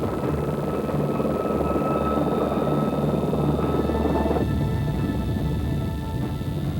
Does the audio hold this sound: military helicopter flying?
yes